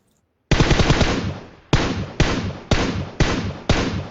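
Repeated gunfire in a PUBG match: a long sustained automatic burst followed by five separate short bursts at steady intervals, loud and close, with no talk.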